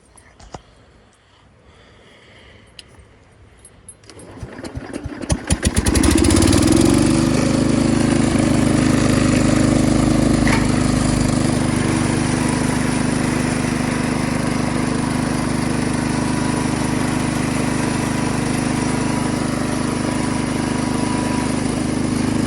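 A Jacobsen Chief 1200 garden tractor engine cranks over and catches after about five seconds, then settles into a steady, loud, close-up idle that runs on unchanged.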